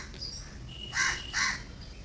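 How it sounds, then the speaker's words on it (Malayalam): Crows caw twice in quick succession, harsh calls standing out at moderate distance over a quiet background, with no talking. "കളിക്കുമ്പോൾ തന്നെ കാക്കുന്ന സൗണ്ട് ഉണ്ടാക്കും"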